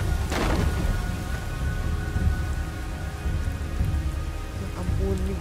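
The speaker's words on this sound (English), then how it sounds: "Hujan sih." Steady heavy rainfall pours across a scene in the God of War video game, a dense continuous hiss with a low rumbling undertone and an early sharp crack, fairly loud and without speech.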